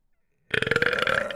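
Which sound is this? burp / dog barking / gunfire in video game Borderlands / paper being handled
burp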